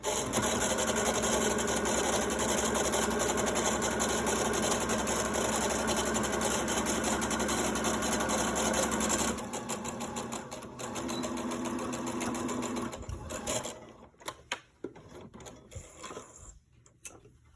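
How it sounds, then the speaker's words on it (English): A sewing machine runs fast and steady, stitching fabric for a chicken-shaped grocery bag holder, then slows into short bursts with pauses before stopping. "My fabric is good all the way down, so I'm going to keep stitching."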